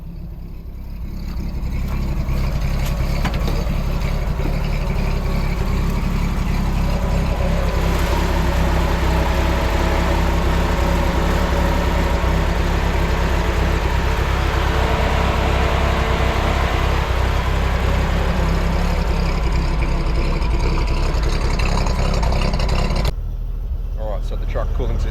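Ramp truck engine idling with its radiator cooling fan running on high speed, a steady loud drone and whoosh that holds throughout and drops off slightly near the end.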